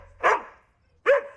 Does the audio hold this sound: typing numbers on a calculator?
no